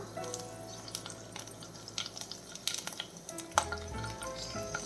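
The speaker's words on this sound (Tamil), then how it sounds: "எண்ணெய் சூடாகிடுச்சு. இதை வந்து கொஞ்சம் கருவேப்பிலை சேர்த்துடலாம்." Curry leaves hit hot oil in a pan at the start of a prawn fry, giving a steady crackling sizzle with sharper pops and a few light utensil clinks, at moderate level with no voices.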